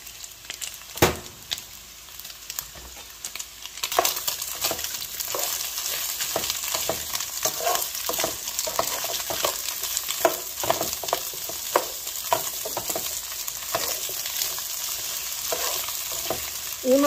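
Chicken and onion fry in a pan, a continuous crackling sizzle broken by repeated scrapes and clacks of stirring that grow busier partway through, with no talking.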